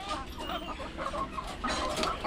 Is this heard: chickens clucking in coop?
yes